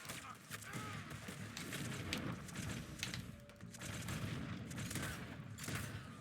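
Gunfire in Red Dead Redemption 2, dense rapid volleys of shots crackling continuously at a low overall level amid chaotic game action, with voices mixed in.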